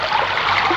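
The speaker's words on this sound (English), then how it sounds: "The tide's flooding the drill hole." Water rushing and trickling steadily into a drill hole in a dungeon as the tide floods in, a continuous close gurgling stream with no pauses.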